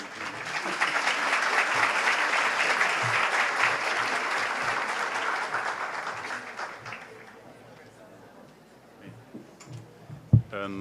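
Audience applause at a lecture event fills the room, dense and steady for about seven seconds, then dies away into quiet room noise with a few scattered handling knocks near the end.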